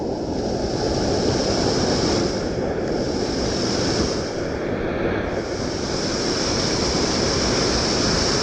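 Turbulent churning river water rushing through a gorge, a loud continuous roar with wind buffeting the microphone, steady throughout with no voices.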